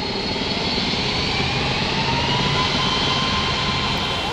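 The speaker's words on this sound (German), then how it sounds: "Der Sound der 3 Triebwerke, das ist Musik in den Ohren der Piloten." Three jet engines of an MD-11 airliner at Frankfurt airport, a continuous loud broadband roar with a faint rising whine, steady throughout with no talking.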